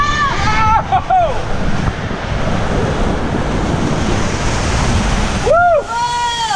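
Rushing water and wind roar steadily on the Pelican Plunge water coaster at Wild Rivers in Irvine, California, with riders shouting and whooping near the start and again toward the end.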